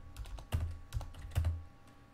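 Quiet keystrokes on a computer keyboard, a few separate taps and short clusters over low room hum, faint and close.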